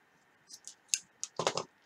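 Scissors snipping off excess cord on a pony-bead ladder rosary, a few quick, crisp close clicks and cuts in a quiet room.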